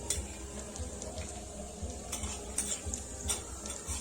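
A khoya mixture is lightly roasted and stirred in a pan, giving soft repeated scraping and clinking with a faint sizzle throughout.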